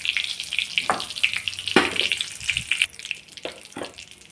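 Cumin seeds crackle in hot oil alongside curry leaves in a tempering, giving bright irregular pops and sizzling up close, with a few sharper clinks and bursts throughout.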